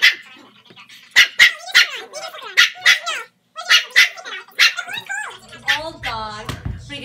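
A dog barks in repeated loud, sharp yips and bow-wows at close range, with whimpering whines toward the end, in a home where a puppy is also present.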